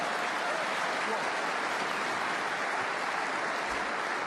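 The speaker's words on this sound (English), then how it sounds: "he got a good cheer for that" A snooker crowd at the Northern Ireland Open final breaks into steady, dense applause and cheering, a continuous wash of clapping that holds at even loudness throughout.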